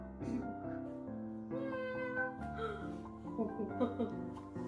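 A cat meows several times, high and drawn out, mixed with people's voices and background music.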